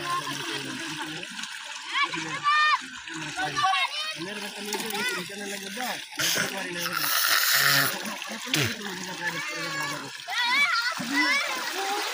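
People, children among them, swim and splash in a natural village pond, with repeated close splashes and sloshing water under almost continuous chatter and children's voices.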